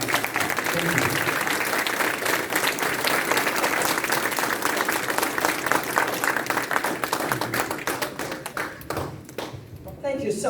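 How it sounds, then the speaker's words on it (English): An audience at a talk on democracy and polarization gives the Congresswoman an enthusiastic welcome, with loud, continuous clapping that holds steady for several seconds before thinning out toward the end. "help me welcome with an enthusiastic applause like we can, our Congresswoman"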